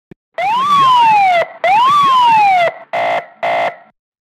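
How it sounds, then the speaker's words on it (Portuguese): Two loud rising-and-falling siren wails, then two short blaring horn-like blasts, close and with no talking. "Deixa eu ver a sirene"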